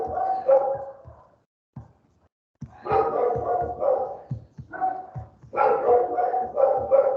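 A pet dog barks in a series of close, loud yips and barks in bursts with short pauses, heard indoors during an online tutoring session.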